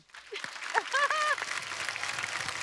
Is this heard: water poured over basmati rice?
no